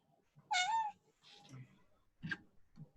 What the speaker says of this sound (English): I hear a soft, slow meow.